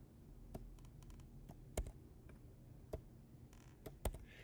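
Keys on a Mac keyboard are tapped in a quiet, irregular series of sharp clicks, close by and faint, with short pauses between presses.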